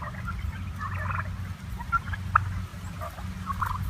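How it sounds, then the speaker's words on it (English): Soft, rolling purring calls of wild turkeys repeat faintly over a steady low rumble outdoors, with a brief sharper note partway through. "Purr. A soft, rolling call. Purrs are made when turkeys are comfortable and content."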